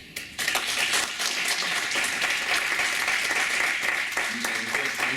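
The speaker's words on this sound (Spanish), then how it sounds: "así que voy a pedir otro aplauso" An audience in a lecture hall breaks into sustained applause that starts abruptly and holds steady for several seconds, many hands clapping at once, close and full.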